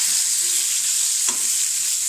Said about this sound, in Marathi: हे बरीचे वांगे आहेत तर त्याला असं आपल्याला तेलामध्ये आधी शिजवून घ्यायचे आहे।